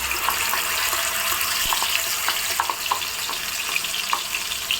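Ground tomato paste frying in ghee in a kadai for tomato halwa, a continuous bubbling sizzle close by, dotted with soft spatula clicks and scrapes.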